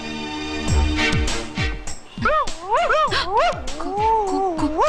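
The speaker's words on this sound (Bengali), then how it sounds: "প্রেগনেন্ট কুকুর তাই ওভাবে ডাকছে" A pregnant dog yips, whines and gives short barks, close and loud, with rising and falling howling whimpers.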